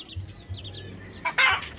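Short clucks from a chicken in a rural yard, a few soft repeated calls followed by a louder burst of squawking near the end, with no talking.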